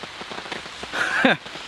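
Steady rain patters on a taut tent surface, a dense close hiss of drops that swells louder near the end.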